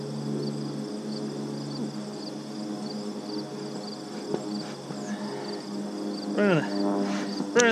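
A dense, steady drone of many honeybees buzzing close by at an open hive during inspection, continuous throughout, with a brief voice near the end.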